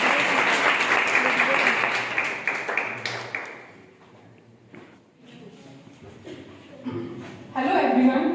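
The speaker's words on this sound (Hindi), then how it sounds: "जोरदार ताली बजाकर स्वागत करें।" An audience at a college medal ceremony claps loudly in a sustained burst that gradually fades, with some chuckles and scattered talk, before a second round of clapping rises at the end.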